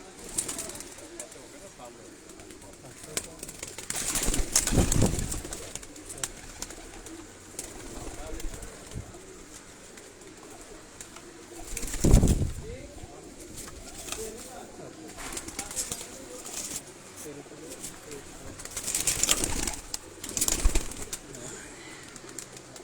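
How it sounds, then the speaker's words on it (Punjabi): Lakha pigeons at a rooftop loft at Ustad Ashiq Hassan's home give low, soft coos in a few separate bursts, with a brief flutter of wings and faint background voices around them. "ਉਸਤਾਦ ਆਸ਼ਿਕ ਹਸਨ ਸਾਹਿਬ ਹੋਰਾਂ ਦੇ ਘਰ ਦੇ ਲੱਖੇ ਕਬੂਤਰ ਨੇ ਜੀ"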